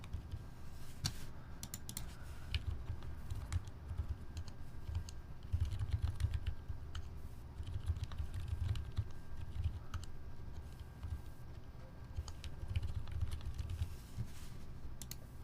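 Someone types quickly on a computer keyboard with its keycaps removed. The presses are dense, hollow and clacky, running in a steady, close-miked stream with brief pauses between runs.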